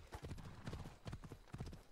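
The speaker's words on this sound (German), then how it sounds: "Wir holen mal unser treues Pferd Phobos und reiten los." Horse hooves gallop in the Greek open-world video game Assassin's Creed Odyssey, producing a fast, rhythmic clip-clop of repeated beats that sounds quiet and fairly close.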